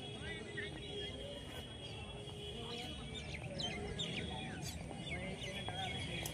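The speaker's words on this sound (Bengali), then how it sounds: "একটা শালিক পাখি উড়ে এসে বসলো।" A common myna calls among scattered bright chirps and tweets outdoors in Murshidabad, moderately close, over a steady low background rumble with faint voices.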